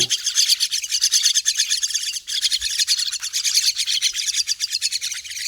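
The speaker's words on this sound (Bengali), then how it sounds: "এখানে আমার 8টি পাখি আছে, এই 8টি পাখি সকলে চূড়ান্ত ক্ষুধার্ত" Eight hungry pet birds chirp nonstop at feeding time, a loud, dense, close chorus of rapid high tweets with no pause.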